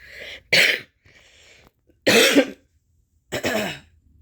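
Three harsh, throaty coughs burst out close by, spaced a second or so apart, with a faint breathy sound between the first two.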